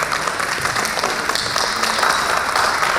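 A crowd in the audience of a Ravana stage play claps steadily, a broad continuous wash of applause that swells slightly toward the end, with no voices standing out.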